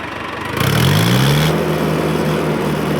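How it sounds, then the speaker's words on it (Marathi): A tractor engine revs up from idle to a loud, rising roar, holds there, then eases back to a steady, rough running note close by. "रेस करून दाखवा."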